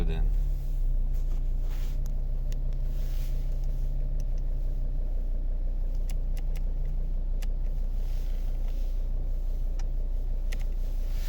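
A steady, low idle of a 2012 Volvo V40 2.0 D3 diesel engine rumbles continuously at close range, with faint clicks and light background noise over it.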